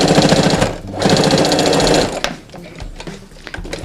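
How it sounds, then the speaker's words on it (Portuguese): A sewing machine stitches a strip of elastic in two loud bursts of fast, even needle chatter, with a short pause between them, and then slows into softer, scattered clicks. "vamos passar uma costurinha aqui"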